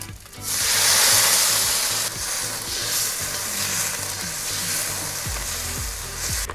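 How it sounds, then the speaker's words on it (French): Loud, steady sizzling of chicken and sauce frying in a hot wok, flaring up at the start and continuing with stirring and scraping noises underneath. "On va mettre le poulet dedans. Et on va rajouter la sauce. Attention, choc thermique."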